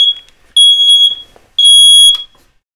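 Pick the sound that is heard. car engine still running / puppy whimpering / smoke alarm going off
smoke alarm going off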